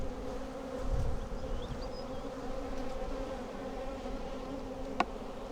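Honey bees buzzing at an open hive full of honey, a steady dense drone of many insects close by, with a soft thump near the start and a sharp click toward the end.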